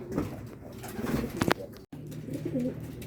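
Racing pigeons coo softly in a low, throaty burble, several short calls over a faint background with a brief handling bump in the middle.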